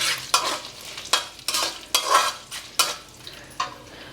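Green chillies fry in a pan for poha upma, with crackling sizzle broken by about eight sharp scraping stirs in an uneven rhythm, close and fairly quiet.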